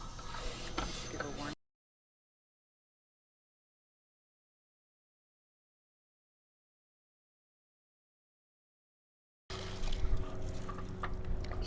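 Water rushes out of a drained RV water heater tank in a steady, noisy gush, heard at the start and again near the end with a long silent gap between.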